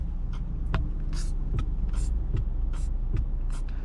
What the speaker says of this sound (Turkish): Arkadaşlar çok enteresan bir sinyal sesimiz var.